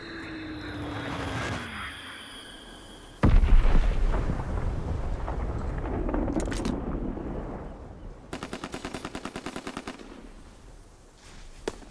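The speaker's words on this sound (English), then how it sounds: "Enemy bomb incoming! Get to cover!" Enemy bombs in Call of Duty: WWII burst with a sudden heavy blast and rumbling aftermath, followed by aircraft drone and rapid bursts of machine-gun fire.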